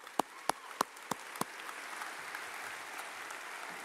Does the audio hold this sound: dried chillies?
no